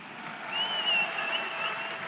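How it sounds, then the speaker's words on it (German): Applause from an audience for MMA fighter Christian Jungwirth, a short, even burst of clapping from a crowd at moderate distance, with faint tonal sounds over it. "Euer Applaus hier."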